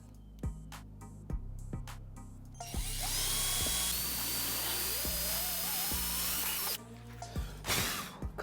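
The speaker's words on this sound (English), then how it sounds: "There's not many people who are going to drill holes in their RS bumper" A power drill bores holes into an Audi TT RS bumper in a loud, sustained whine lasting about four seconds, with short clicks and brief drill bursts before and after.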